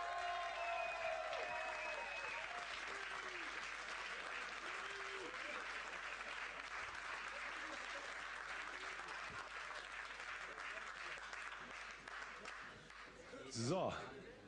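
Sustained studio applause from an audience for the Lanotte ladies on a German TV game show, a dense steady clapping wash lasting the whole stretch with a brief louder swell near the end and some voices mixed in.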